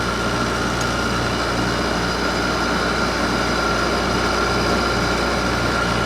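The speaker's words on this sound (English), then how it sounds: "listen to that fan motor, that the bearings are going already" An air conditioner fan motor with worn bearings, on a Frigidaire or Hampton Bay unit, runs steadily with a constant mechanical hum and a faint high whine throughout, close and even in level.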